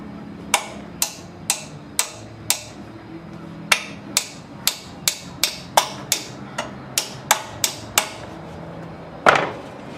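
Sharp metallic hammer strikes on a Suzuki GS550 motorcycle frame ring out in a steady, fairly quick series, about twenty blows with short pauses, close by and loud over a faint background hum.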